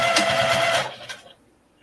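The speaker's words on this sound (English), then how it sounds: "we're going to stitch this" A sewing machine stitching fabric close to the edge of a shopping bag, a fast mechanical whir for about a second that then stops, followed by near silence.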